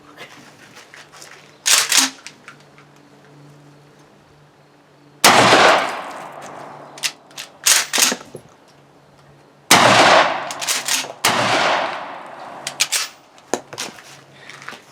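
A Mossberg 590 Shockwave 12-gauge shotgun fires at an outdoor range, several sharp, loud reports in uneven groups with short echoing tails and gaps between shots.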